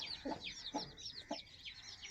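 A hen with her newly hatched chicks gives three low, evenly spaced clucks, close by, while high thin chick peeps chirp continuously over them.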